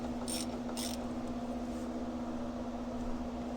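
A fill plug bolt on a Polaris Hawkeye 4x4 is tightened with a ratchet, giving two short clicking bursts near the start over a steady mechanical hum, close and fairly quiet.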